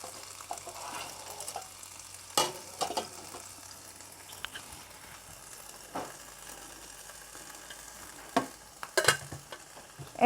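A heated grill pan sizzling softly at low level, with a faint steady hiss broken by a few sharp clicks and knocks of cookware.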